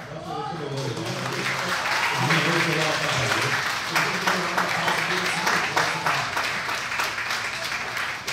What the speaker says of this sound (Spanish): Si le van a dar un aplauso, yo se lo doy.